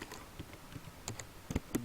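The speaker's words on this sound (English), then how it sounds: "now in this bracket we are typing something" Keys clatter on a computer keyboard while Java code is typed, a quiet irregular run of close taps that grows into a few sharper strikes near the end.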